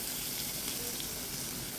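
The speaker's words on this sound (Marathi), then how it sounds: "आणि लसूण ॲड करते आता. लसूण ढवळते." Garlic sizzles in hot oil with onion in a pan, a steady close hiss with faint stirring scrapes.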